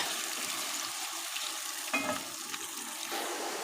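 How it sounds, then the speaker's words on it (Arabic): Finely minced onion sizzles in hot oil and ghee as it starts to fry, a soft steady crackle close by with a brief clatter midway, fairly quiet overall. "نبدا تشويحه معانا كده في الزيت والسمنه"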